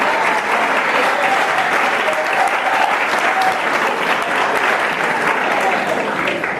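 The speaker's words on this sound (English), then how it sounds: "Another round of applause." Loud, sustained applause from a large crowd at a live performance event: a thick, continuous wash of clapping that holds evenly for several seconds without fading.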